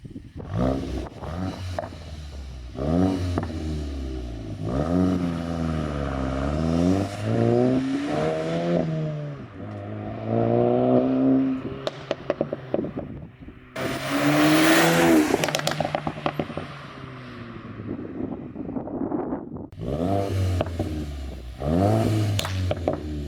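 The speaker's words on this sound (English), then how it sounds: "put up our sound clips from the track exhaust so you can see and hear that" A Mk8 car engine revs repeatedly through a loud AWE track exhaust, rising and falling in pitch with throttle blips, crackles and pops between pulls.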